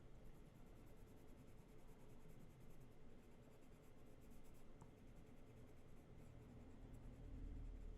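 Prismacolor colored pencil shading a darker green middle tone onto a leaf on paper, a steady soft scratchy scraping that runs continuously at close range, faint and unbroken, with no talking.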